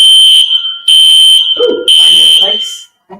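A shrill fire alarm sounds at an expo hall talk, blaring in loud repeated bursts with short gaps between them while people talk and react underneath.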